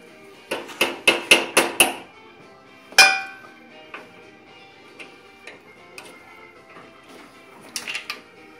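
A quick run of five sharp metallic taps from a small hammer on a Ford Model A driveshaft, then one louder ringing strike, followed by scattered lighter knocks and clinks.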